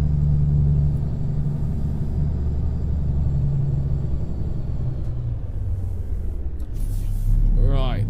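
In American Truck Simulator, a cab-over truck's engine holds a steady low rumble throughout. Near the end, a short airy hiss rises over the drone.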